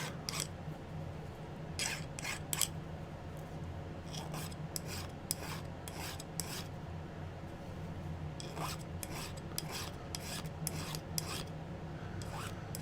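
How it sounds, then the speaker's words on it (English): Hand file rasping across a metal sheet to smooth a soldered jewelry piece, with quiet repeated scraping strokes in irregular bursts over low background hum, close and faint. "Got to do a little filing to smooth things out."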